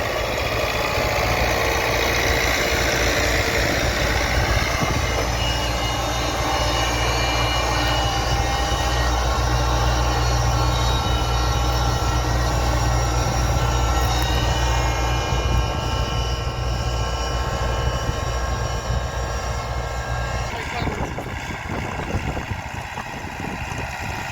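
A tractor pulls a new Remsintez SPU 8 seeder while sowing sunflower. Its engine makes a loud, steady close drone with a low hum, and the tone shifts and eases near the end.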